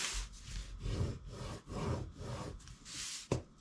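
Repeated rough scraping strokes of paper being scored against chipboard, about six in a steady rhythm, close and fairly quiet, ending with a sharp tap.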